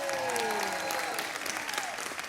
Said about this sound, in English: Oh, I got a round of applause.